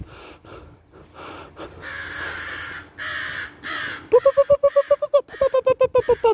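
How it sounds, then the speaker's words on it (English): Crows caw in a rapid run of loud, harsh calls near the end, after a stretch of breathy, noisy sounds at the start. "Oh, there the crow is."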